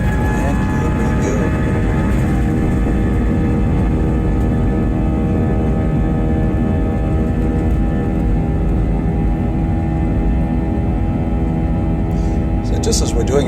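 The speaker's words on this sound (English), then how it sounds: "So just as we're doing our takeoff run" A Jetstar airliner on its takeoff run out of Sydney gives a steady, loud roar of engine and rolling noise with a dense low rumble and constant strength throughout.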